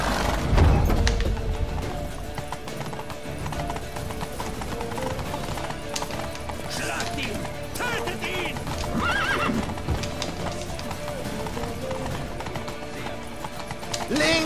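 Hooves clip-clop rapidly as horses gallop in The Witcher 3, with repeated neighs and whinnies rising over the steady drum of hooves, along with thuds and the clatter of a chase.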